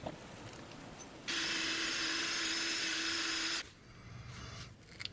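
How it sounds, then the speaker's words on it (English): A cordless power drill runs in one continuous burst of about two seconds on the control arm of a 2020 Nissan Rogue, a steady high whine with a low hum beneath, then stops, leaving quiet shop noise. "I'm going to grab the drill so it's a lot faster."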